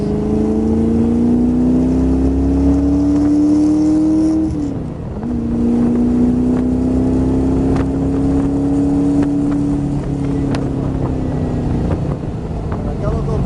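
An AC Cobra Shelby engine accelerating, a loud steady drone rising in pitch, briefly dropping as the driver lifts off around a bend, then building again while an instructor speaks.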